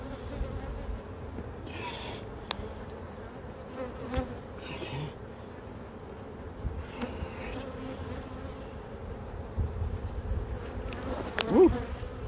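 Honeybees from a new package colony buzz steadily during a hive inspection amid cross comb, a soft continuous drone with brief louder swells as frames are moved, no talking.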